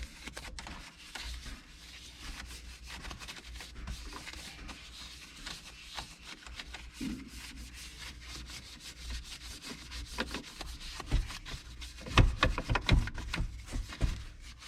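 Bristle brush scrubbing plastic car interior panels around the infotainment screen and climate control buttons with cleaning liquid, a steady close rubbing swish with irregular scratchy strokes that grow louder toward the end, no talking.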